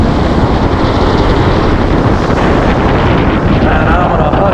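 Strong wind gusting across the microphone on a beach at New Smyrna Beach, Florida, a loud continuous roar with surf washing underneath, no clear voices.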